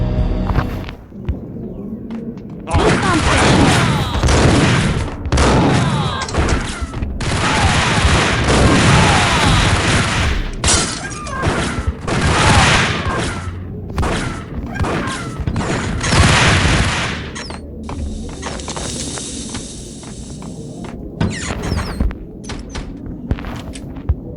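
A loud, sustained gunfight in the video game Max Payne, with rapid bursts of gunfire and heavy booming impacts that fill nearly the whole stretch before easing slightly toward the end.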